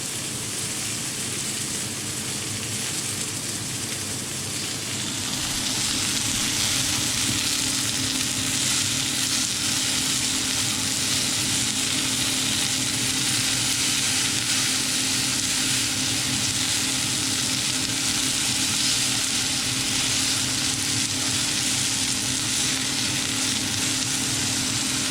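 Venison stew meat sizzling in gravy in a pot as it is stirred, a loud continuous frying hiss that swells after a few seconds and stays steady throughout.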